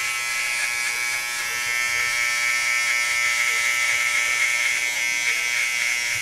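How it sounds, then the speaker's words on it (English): A hair detailer trimmer hums loud and steady at close range while removing stubble during a skin fade haircut, one continuous electric buzz with no talk. "So I'm just knocking off this stubble with the detailer."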